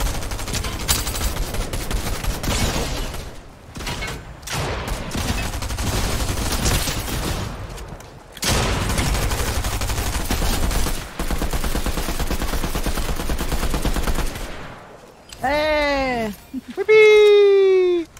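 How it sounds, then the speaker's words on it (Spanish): Dense bursts of rapid gunfire in a squad no-build match of a battle royale video game crackle almost continuously, with voices talking over the shots and a few whistling tones near the end. "Tiros, tiros, tiros"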